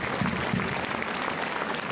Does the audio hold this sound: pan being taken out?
no